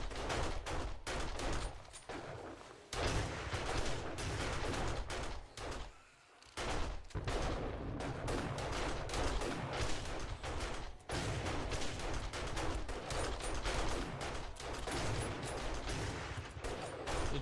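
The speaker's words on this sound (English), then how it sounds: "That guy's shooting, they're already down." Rapid bursts of gunfire from the video game 7 Days to Die, dense overlapping shots rattling almost continuously with a brief lull midway before the firing resumes.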